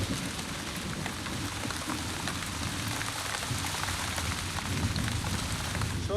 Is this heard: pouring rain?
yes